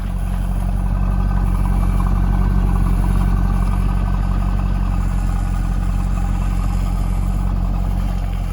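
A 2000 Chevrolet Corvette idles with its true dual exhaust, giving a steady, loud, low-pitched burble that holds an even level the whole time, close to the microphone and without any talking.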